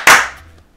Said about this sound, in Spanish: aplauso deportivo de producción